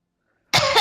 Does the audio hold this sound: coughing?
yes